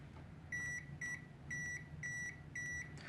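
A RICHMETERS RM219 multimeter's non-contact voltage detector gives a pulsing, high-pitched beep at a live wire, about six short bursts in a steady rhythm, over a faint background hum.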